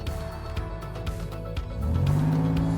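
A child's toy car, one of two toy cars pushing and carrying balls around a playroom, rattles and clicks with a faint engine whir that swells into a louder revving hum near the end.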